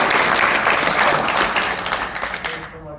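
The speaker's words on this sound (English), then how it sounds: "Upstairs, David and Will, let's give them a round of applause for keeping us going." A lecture-series audience applauds, a dense, even wash of clapping that holds steady and then thins and fades out near the end.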